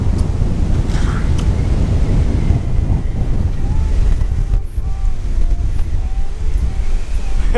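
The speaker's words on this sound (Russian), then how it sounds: "На улице капец как ветрено, капец!" Strong wind outdoors buffets the microphone with a loud continuous roar and low rumble, steady gusting throughout, with faint background sounds underneath.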